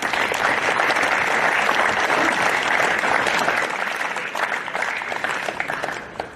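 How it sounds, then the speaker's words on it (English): A large crowd applauds loudly and continuously at a cricket Twenty20 grand final, a dense wash of clapping that holds steady throughout and softens only slightly near the end. "Give yourselves a round of applause."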